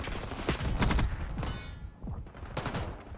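Gunfire in the video game Black Ops 6 during a ranked Hardpoint match, loud repeated bursts of shots in quick succession with a short lull between volleys.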